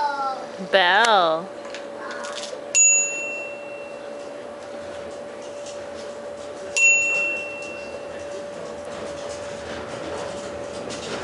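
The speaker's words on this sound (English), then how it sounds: "Bell." A bicycle bell dings twice, a few seconds apart, bright and ringing, over a steady low hum and a brief voice.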